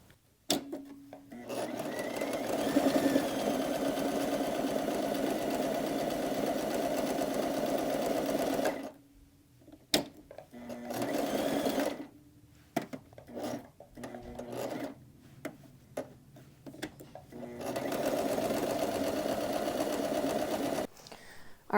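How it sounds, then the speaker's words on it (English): A domestic sewing machine stitching buttonholes runs in close, loud, steady mechanical bursts, stopping and restarting several times with short clicks and pauses between runs. "What a modern marvel, this sewing machine."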